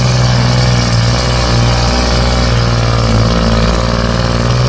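A Kubota L3608 tractor's 36-horsepower three-cylinder direct-injection diesel engine runs steadily at idle, a loud, continuous low throb that stays even throughout with no talking.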